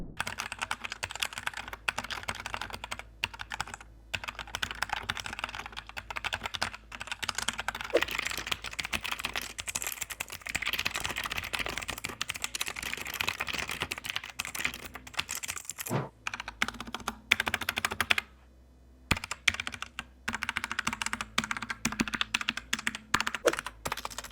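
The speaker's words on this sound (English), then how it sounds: "Typing and gaming on the keyboard was quite nice." Continuous fast typing on a mechanical keyboard, clicky keystrokes in a rapid steady stream, close up, with a brief pause near the end.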